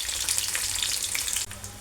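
Curry leaves dropped into hot oil in a home kitchen while cooking bottle gourd with milk hiss in a steady, bright sizzle, with a brief dip and a slightly quieter continuation; no one talks.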